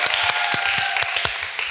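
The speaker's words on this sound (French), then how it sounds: "Applaudissez-la un peu." An audience at a live French event claps steadily for a guest, giving a dense, continuous patter of many hands.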